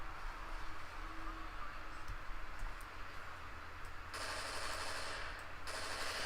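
Rapid gunfire from a video game shooter, a dense continuous crackle of shots filling the clip, with a brighter burst of firing partway through; no talking.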